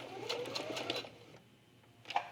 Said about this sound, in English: It makes it a little bit easier to sew the cork